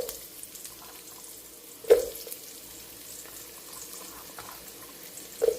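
Sliced onions fry in hot oil for Tamil-style ugani, a soft, steady sizzle running throughout with two brief louder crackles, one near the start and one at the end.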